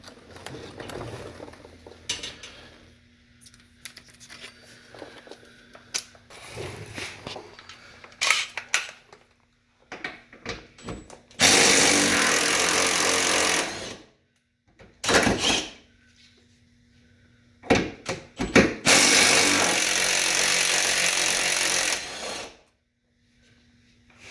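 An impact tool or power wrench removes bolts from the transmission cradle of a C6 Corvette in a garage, with two long, loud bursts of buzzing whirr separated by short sharp bursts, amid scattered clanks and handling noises.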